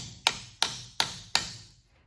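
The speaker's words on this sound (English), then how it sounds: "I'm only going to hammer right on the rim." A metal hammer strikes the wire rim of a handmade cookie cutter four times in a steady rhythm, each tap sharp, close and ringing briefly before fading.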